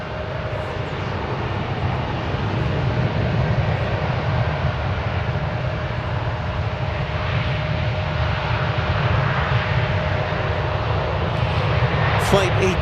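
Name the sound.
Boeing 737-800 airliner departing DFW Airport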